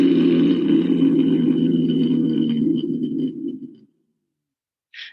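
A low, buzzing throaty vocal drone from a yoga throat-vibration exercise, with a moaning, cow-like tone, holds for several seconds, then fades out to silence before a brief faint hiss.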